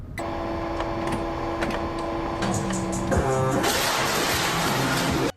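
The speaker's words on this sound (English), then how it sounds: "they also play this loud ass printer sound that we can't avoid" A loud mechanical printer from the video game Five Nights at Freddy's 6 chatters and whirs steadily with sustained tonal hums, then shifts into a harsher, denser grinding burst near the end, with no talking.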